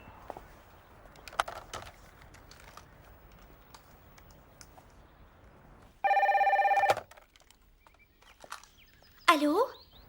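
A telephone rings in an indoor scene of a French-dubbed television drama, one sustained electronic ring burst followed later by a brief second warble, with soft background noises between.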